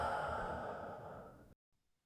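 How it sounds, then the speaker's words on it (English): A long, slow exhale during a guided breathing exercise, airy and close, that fades gradually over about a second and a half before cutting to near silence. "Exhale."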